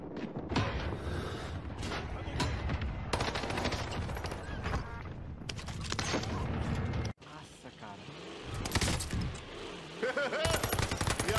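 Gunfire in Call of Duty Warzone on the Caldera map, dense bursts of automatic fire and shots packed close together, loud and continuous with a brief drop near the middle, under excited voices talking.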